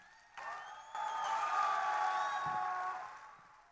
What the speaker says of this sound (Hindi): मैं आप लोगों की तालियों की गूंज सुनना चाहती हूं